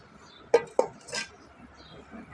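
Chicken pulao is served from a pot into a dish: two sharp metal clinks of a utensil against the pot, then a softer scrape, close and clear over a quiet room.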